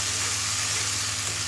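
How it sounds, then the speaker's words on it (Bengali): Onion, garlic and ginger frying with ground spice paste for a duck curry, giving a steady, dense sizzle with no breaks, close and moderately loud, heard alone. "পেঁয়াজ রসুন আদা এখন সুন্দর করে আমি হচ্ছে কষিয়ে নিব।"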